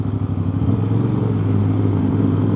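An Aprilia RS660 motorcycle fitted with a new aftermarket exhaust runs close by, its steady, throbbing engine note holding at a fairly constant level for a couple of seconds without talk.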